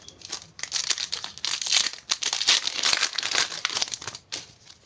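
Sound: Pokemon booster pack wrapper being torn open

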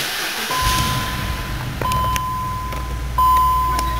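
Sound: 2004 BMW X5 4.4i V8 engine starting

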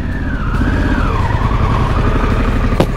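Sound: Harley-Davidson Pan America motorcycle making a U-turn

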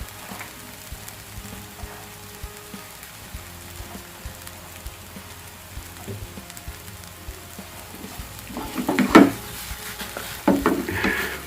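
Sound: shallots being stir-fried in a pan

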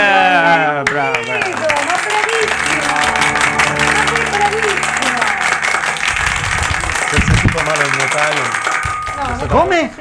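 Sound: audience applause

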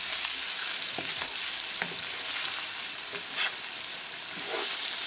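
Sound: tofu stir-frying in a pan, being flipped

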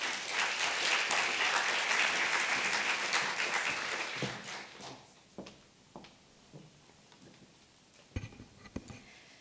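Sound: applause welcoming Dr. Victoria Herrmann to the podium

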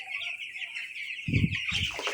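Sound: young chickens clucking on a poultry farm

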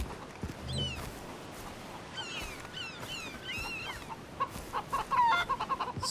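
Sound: chickens clucking in the video game Far Cry 3

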